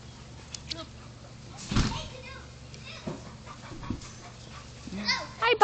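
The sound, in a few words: puppies panting and playing outside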